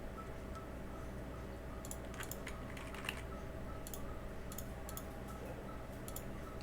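Quiet computer keyboard typing comes in short bursts of light clicking keystrokes over a faint background hum, with no voices.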